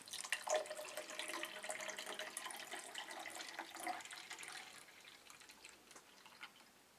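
Homemade water fountain running without electricity, water falling and trickling steadily with small splashes, close and fairly faint, no talking.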